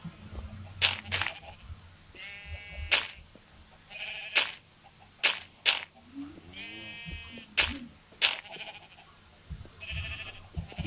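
Repeated nasal sheep bleats in a video game sound over a faint background hum, alongside sharp clicking bursts and scattered rustling, spaced irregularly throughout.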